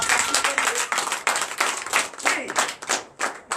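Worshippers at a Sunday church service in Comè, Benin clap for Jesus, close and loud, with sharp hand claps in uneven bursts rather than a smooth wash.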